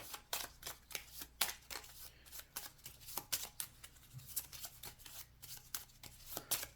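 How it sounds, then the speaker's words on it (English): A deck of dungeon cards for the Mini Rogue board game being shuffled by hand, close, quiet repeated riffling and flicking snaps in an irregular quick rhythm, no voices. "Now, these are all of our dungeon cards. So these are going to get shuffled up."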